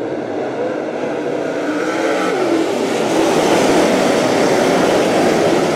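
Race cars accelerating hard at a restart with eight laps to go, a loud, dense roar of many engines building and swelling steadily as the field pulls away, with no speech over it.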